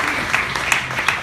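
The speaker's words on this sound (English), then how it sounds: "Let's give her a big round of applause." An audience at a Q&A panel gives a brief, steady round of clapping, dense and fairly close, with a few sharper claps standing out from the wash.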